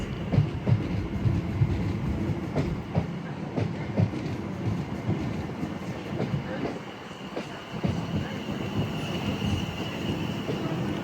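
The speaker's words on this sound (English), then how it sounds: "As 377461 arrives bound for London Victoria." A Class 377 electric multiple unit, 377461, rolls through Clapham Junction toward London Victoria, a steady rumble of wheels with rhythmic rail clicks and faint squeal, moderately distant, with a little background voice.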